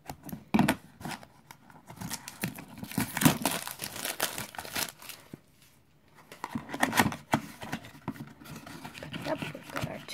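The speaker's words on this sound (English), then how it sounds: "Cut the plastic." Scissors snip and slice through the plastic wrapping on a Real Littles toy box, with close crinkling and crumpling in two bursts separated by a short quiet pause.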